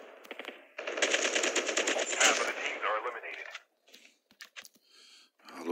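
Rapid automatic gunfire from a weapon in the mobile shooter Call of Duty Mobile, a dense burst of fast, loud shots lasting about two seconds, followed by scattered quieter clicks and a few brief noises.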